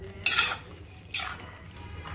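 A snack made from kneaded dough is stirred in a pan with a metal spoon, giving three scraping, clinking strokes over a quiet, low background.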